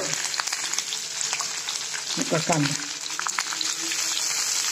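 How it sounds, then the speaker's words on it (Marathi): Curry leaves and green chillies dropped into hot oil, hissing and spitting with a loud, continuous sizzle and a few sharp crackles partway through, no voices over it. "आता ह्याच्यामध्ये कढीपाला आणि मिरची टाकते."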